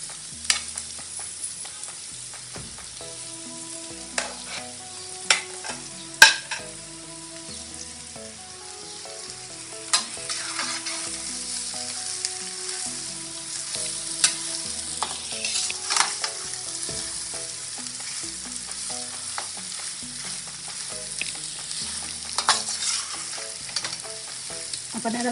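Mashed potatoes stir-fried in a pan for vada pav, a soft steady sizzle with repeated scraping and stirring strokes throughout, fairly quiet and close, no voices.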